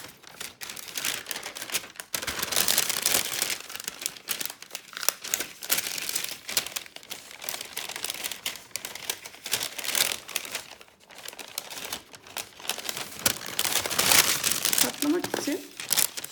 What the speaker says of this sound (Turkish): Diğer yarısını da katlıyorum.